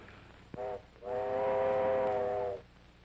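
A steam train whistle in a 1939 film sounds a short toot, then a long sustained multi-tone blast, loud and close, over faint rumbling.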